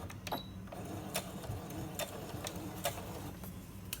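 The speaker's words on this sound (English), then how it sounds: "I'm going to go ahead and start my stitch, and then I'll back stitch just a couple." Sewing machine stitching fabric, starting with a short back stitch, a close mechanical whir with irregular clacks and pauses, moderately loud.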